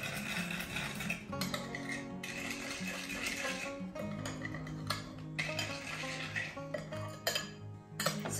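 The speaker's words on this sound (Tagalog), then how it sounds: "And then, stir natin siya." A spoon stirs 2 1/4 teaspoons of yeast into a liquid mixture, with repeated clinks and scrapes against the bowl at a close, moderate level.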